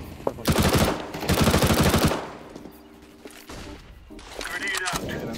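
MP7 submachine gun fired in a video game, heard as two loud sustained bursts of rapid automatic fire, followed by quieter game sounds and a few clicks.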